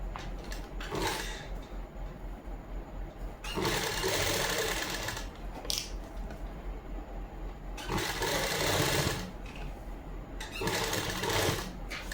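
A sewing machine stitches lace onto the neckline of a Punjabi suit in several separate close bursts of rapid whirring, with quieter pauses between runs.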